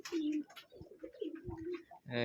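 Pigeons coo in a loft, a few soft throaty rolling calls close by with faint background stirring, alone without talk.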